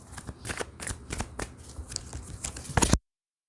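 Tarot cards shuffled and handled up close, a run of papery riffles and soft slaps in uneven bursts, ending in a louder flurry before cutting to silence.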